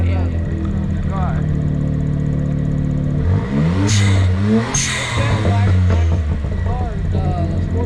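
A Suzuki Cappuccino's small sports car engine revs up and down aggressively several times, loud and close, with people talking over it.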